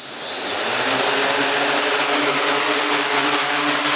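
An ArduCopter multicopter drone running an APM 2.5 flight controller lifts off, its motors giving a loud, steady high-pitched whine that holds evenly throughout.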